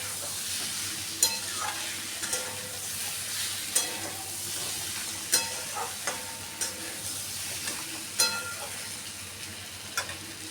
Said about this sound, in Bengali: গরম মশলাটা দিয়েও আমি আরও একটু ভালো করে কষিয়ে নেব